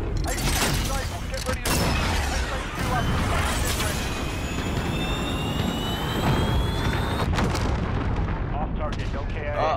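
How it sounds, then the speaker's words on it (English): Loud explosive blasts and gunfire from a missile strike in a close-quarters shoothouse video game match, dense and continuous, with players talking over the noise. "Sending a missile in now."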